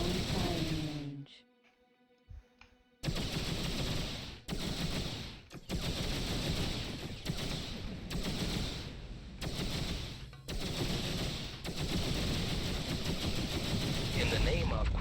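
Ship weapons firing at a target in the space game X3 Farnham's Legacy, with dense, continuous rapid bursts of loud gunfire. The volleys come in blocks separated by short pauses, after a quieter opening stretch of electronic tones.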